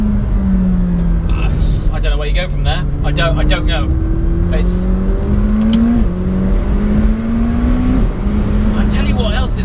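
A McLaren 720S sports car engine revving and pulling through the gears while driving, its rising and falling drone loud and continuous under someone talking inside the cabin.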